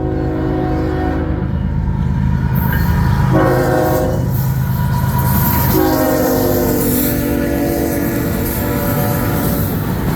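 CN freight train led by EMD SD70ACe locomotives, including an EMDX SD70ACe Tier 4 unit, passing at Ladysmith, Wisconsin, with loud sustained multi-tone horn blasts over a steady rumble of engines and rolling cars.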